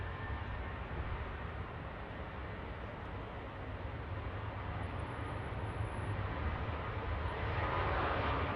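A jet climbs out on a derated departure at Manchester Airport, a steady broad engine roar close and loud throughout, swelling slightly toward the end, with no talk.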